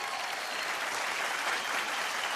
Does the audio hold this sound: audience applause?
yes